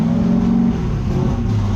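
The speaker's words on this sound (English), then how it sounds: "we're gonna idle it up and down to get things going here" A freshly rebuilt car engine runs loud and close, idling with a steady low drone that rises and falls slightly in pitch as the revs are eased up and down.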